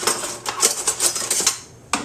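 Metal scoop knocking and scraping through a chicken and broccoli filling in a bowl, a string of close, clattering utensil hits with short pauses between them.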